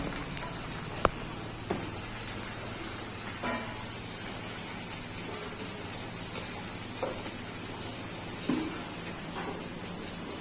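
Potatoes fry in a pan with a faint, even crackling sizzle resembling light rain, broken by a few soft knocks and clatters nearby.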